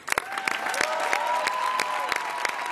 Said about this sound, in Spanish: lo único que le queda es aplaudir